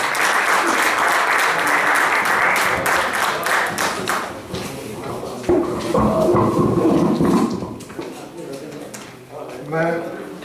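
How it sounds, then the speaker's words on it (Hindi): Audience applause welcoming a poet at a mushaira, a poetry gathering in Peshawar. Dense clapping fills the first few seconds, then thins into scattered claps under someone speaking into a microphone. "आप सब की तालियों में हज़रत आरिफ इमाम"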